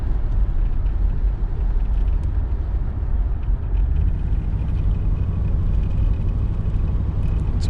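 A 1993 Chevrolet Caprice wagon cruises along the road with a steady, loud, low rumble of engine and road noise that barely changes throughout, and no one talks.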